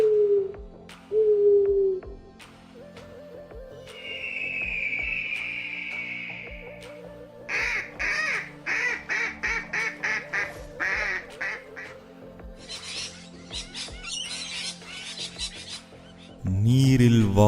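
Ducks and other birds calling, a sequence of quacks, harsh caws and varied chirping calls, some repeated in quick rhythmic bursts, moderately close with no talking.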